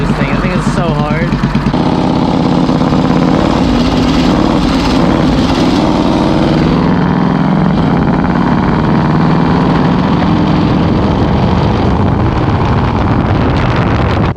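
A 1980 Harley-Davidson Sportster 1000cc motorcycle engine running, a loud continuous rumble with wind buffeting, people talking over it.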